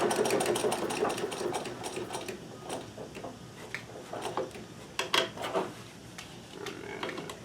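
Sewing machine stitching a removable collar, bursts of rapid close needle chatter with short pauses and mechanical clicks between runs.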